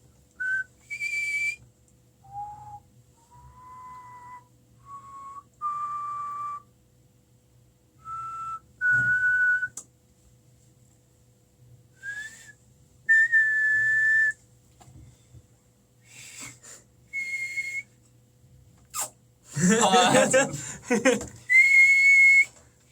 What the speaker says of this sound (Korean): 저는 근데 부는 휘파람도 되고 들이마시는 휘파람도 돼요